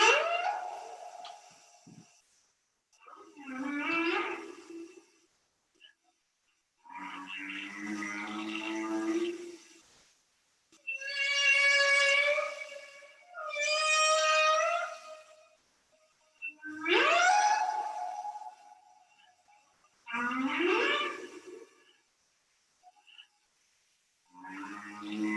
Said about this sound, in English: that is one of the most beautiful humpback whale songs recordings that I've ever heard